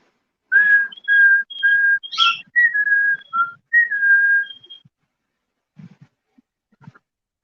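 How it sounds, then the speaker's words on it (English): Someone whistles a short melodic tune outdoors in a series of clear, close, sustained notes over about four seconds, followed by a few faint scattered sounds and quiet. "As soon as you started whistling, they stopped."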